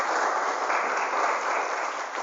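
A school audience at an anti-bullying motivational seminar at an Islamic senior high school applauds. The clapping is a dense, even wash that stays at a steady level the whole time, with no other sound on top.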